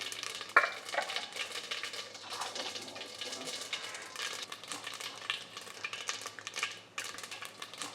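Cumin, mustard seeds and turmeric crackle and sizzle in hot oil while being stirred for tomato rice, a continuous light frying hiss with occasional scraping and clinks of a spoon against the pan, and faint talk now and then.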